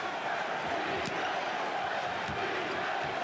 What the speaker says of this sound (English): Chant of defense from this capacity crowd